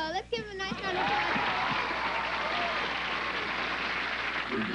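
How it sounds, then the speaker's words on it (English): Audience applause and cheering for a dance group on a kids' TV dance show, a continuous loud wash of clapping and crowd noise that begins right after a brief spoken line. "Let's give them a nice round of applause."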